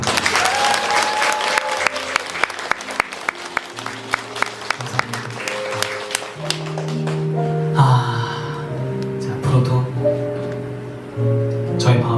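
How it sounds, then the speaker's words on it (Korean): A concert audience claps at the end of a summer-night show, sharp handclaps leading into sustained applause, with a voice talking over it and some sustained tones alongside. "함께 해주신 우리 여러분들에게 박수 한번 주세요."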